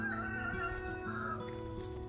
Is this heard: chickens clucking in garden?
yes